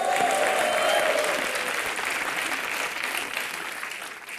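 A television comedy studio audience breaks into applause, a dense wash of clapping that starts loud with a brief tone over it, then gradually fades and thins.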